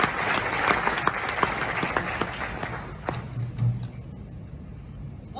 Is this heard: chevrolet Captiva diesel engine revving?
no